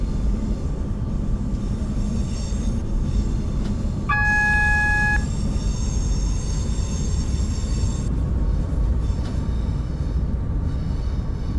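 Train flange squeal from a Birmingham Cross City line simulation in Open BVE, a thin high ringing above a constant rolling rumble, with a brief electronic beep tone in the middle.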